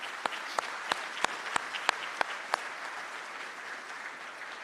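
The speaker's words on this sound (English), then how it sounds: "Round of applause" Scattered claps from an audience at a transit police K9 graduation ceremony, a handful of sharp separate hand claps spaced about a third of a second apart over a steady room hum, fading out after a few seconds.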